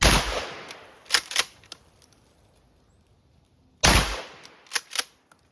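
Two loud, sharp blasts from a Mossberg Maverick 20 gauge shotgun, each followed by a short ringing decay and quick echoes off the surroundings, separated by several seconds of near silence.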